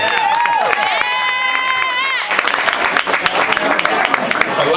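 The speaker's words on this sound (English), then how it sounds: "I'd just like for everybody to give him a big round of applause" An audience at an entrepreneur night event in Palm Coast, Florida breaks into applause and cheering, bursting in loudly after a stretch of tonal music and continuing as dense clapping to the end.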